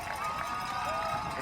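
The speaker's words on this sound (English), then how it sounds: "right now, crowd has gotten loud once again" Roadside crowd at the Boston Marathon near Wellesley Square, a steady broad wash of cheering and noise that stays loud and even throughout, with no single voice standing out.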